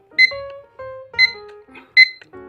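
A Cooking Concepts electronic kitchen timer beeps loudly and close in a repeating alarm pattern, three sharp bursts of high tones about a second apart.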